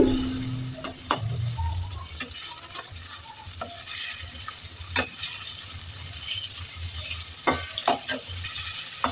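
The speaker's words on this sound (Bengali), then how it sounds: "তো মাছটা আমার ভেজে নেওয়া হয়ে গেছে" Snakehead fish fries in hot oil, a continuous close crackling sizzle with sharp pops and occasional clatters of a utensil, a brief low thud near the start.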